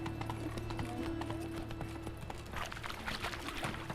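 Horse hooves galloping in The Witcher video game, a fast rhythmic clip-clop that runs steadily and close, with a brief whinny-like sound and faint background game ambience, no talking.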